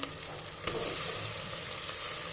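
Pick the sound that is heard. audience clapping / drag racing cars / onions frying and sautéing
onions frying and sautéing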